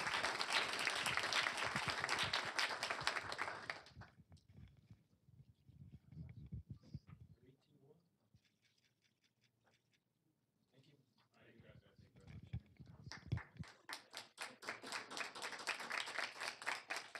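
Audience applause at a county board of commissioners meeting, a burst of clapping at the start that fades into quiet room noise, then a second round of applause building again near the end.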